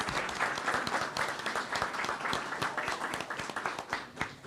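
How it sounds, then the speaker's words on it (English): A school board meeting audience of parents and families applauds student artists, a moderate, fairly even patter of many hands clapping, slightly distant in a large room. "You can clap for that."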